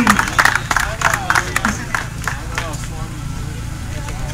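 A crowd applauds the winner of a pairs race in Tskaltubo, with a burst of clapping at the start that thins into scattered claps under steady outdoor noise and talk.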